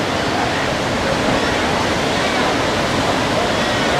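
Surf at Manly Beach roars as a dense, continuous wash of breaking waves, loud and close, with no pauses.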